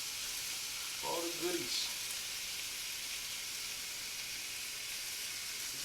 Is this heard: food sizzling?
yes